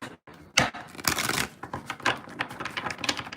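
Tarot cards shuffled by hand during a love reading, giving a dense run of quick papery riffles and flutters with short gaps, close and fairly loud, with no talking over it.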